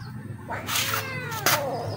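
A cat meows loudly up close, two drawn-out, wavering cries with a short gap between them.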